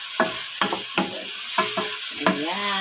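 Sautéed miswa noodles with chicken liver are stirred in a pan, a series of five or six crisp scraping strokes over a soft continuous sizzle, close and fairly loud with no talking.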